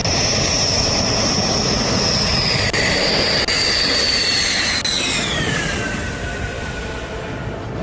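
Rafale fighter jets land one after another at Ambala airbase, their roar loud and sustained. A high engine whine holds steady and then sweeps downward as the aircraft pass close by.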